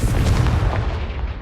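The Confringo spell's fiery blast in Hogwarts Legacy lands as a loud, low, rumbling boom that holds for over a second before starting to trail away.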